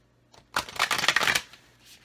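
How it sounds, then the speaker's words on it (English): A deck of Mystical Shaman Oracle cards is riffled in a single quick shuffle, a close, crisp burst of flicking card edges that lasts about a second before going quiet. "We're going to pull Mystical Shaman Oracle card."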